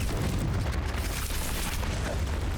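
An explosion spell going off in Hogwarts Legacy, a loud, sustained rumbling blast filling the whole moment with dense, steady roar.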